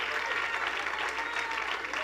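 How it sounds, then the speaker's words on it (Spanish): Church congregation applauding during a sermon, steady dense clapping from many hands filling the whole moment without a break. "este aplauso es para ti, no es para el pastor"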